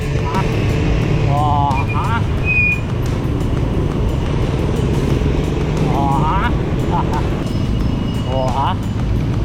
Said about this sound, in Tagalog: Ilang single na motor pati tricycle.